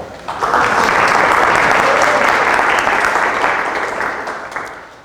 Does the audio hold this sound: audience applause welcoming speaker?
yes